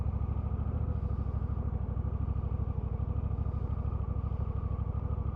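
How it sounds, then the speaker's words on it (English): A Honda CMX1100 Rebel's 1100cc twin engine idles in neutral, a steady low rumble of even, rapid pulses, close and moderately quiet, with no voices. "it's got that usual smooth Honda engine"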